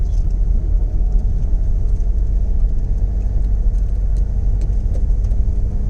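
Citroën Xantia V6 driven around a test track, heard from inside as a loud, steady low engine rumble with road noise, constant throughout and free of voices.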